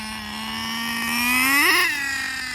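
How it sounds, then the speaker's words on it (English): A nitro-powered HPI Super Nitro RS4 RC car engine runs during break-in, giving a steady high-pitched buzzing drone that rises in pitch and loudness near the middle with a brief warble, then settles back to an even whine. "I'm mostly just trying to run the engine."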